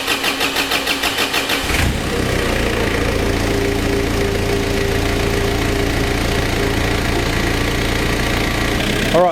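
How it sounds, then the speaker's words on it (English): An engine with diesel fuel in its crankcase for a flush cranks in a few rhythmic pulses, then catches and settles into a loud, steady idle with a dense mechanical chatter that runs on alone. "that there is the sound of my motor running on nothing but diesel fuel inside the crankcase"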